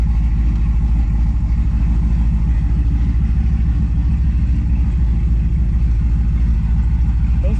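Steady low engine rumble from a Pontiac G8 GT with a stage 2 cam, driving with a continuous loud, deep drone and no talk.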